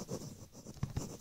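A pen scratches out an answer on paper in a few short, quiet strokes, with soft taps near the end, close up and faint.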